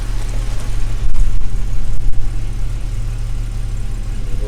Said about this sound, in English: it's sitting ticking over there now